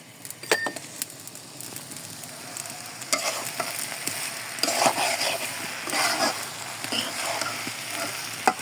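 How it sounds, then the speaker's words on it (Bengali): Leafy greens stir-fry in a pan with a continuous sizzle, joined by intermittent scraping and clinking of a spatula, with a few sharper taps scattered throughout. "ভাবলাম এতগুলো শাকটা ভাজি করি"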